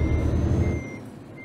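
A truck in the Euro Truck Simulator 2 game reverses with a steady engine rumble and faint, regularly spaced reversing beeps, the engine dropping away midway while the beeping continues.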